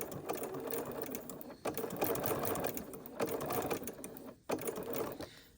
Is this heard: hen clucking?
no